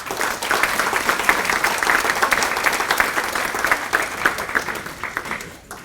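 A banquet crowd at a civic club grant awards event keeps up a steady round of applause, thick overlapping claps at an even level that fade out abruptly near the close.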